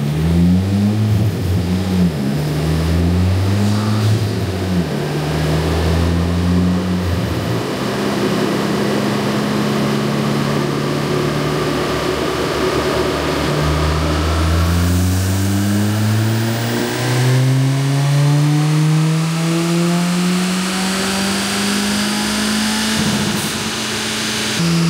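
A tuned 2023 Honda Civic Si with PRL Motorsports and Two-Step Performance upgrades revs loudly on a dyno, climbing through the gears in repeated rising sweeps before a long hard pull near the end, with no voices.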